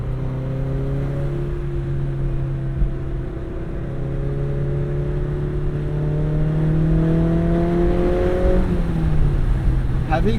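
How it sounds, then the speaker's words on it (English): A Mazda Miata convertible engine revving freely while driving, a close steady drone climbing in pitch through the gears, dropping at a shift and rising again, with wind and road noise. "Having like a car that just revs so freely"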